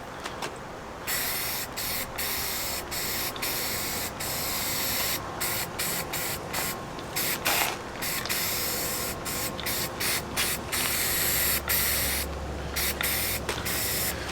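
Spray paint hisses steadily from an aerosol can onto an E-11 Stormtrooper blaster replica, close and continuous with brief pauses between passes.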